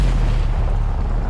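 Anti-aircraft shells bursting around a B-17 bomber over the Grand-Lieu lake area of France, a dense, steady low rumble of heavy booms with no speech.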